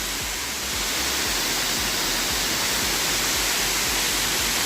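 A mountain waterfall cascading on its descent makes a constant, dense broadband roar, steady and loud from start to finish with no voices over it.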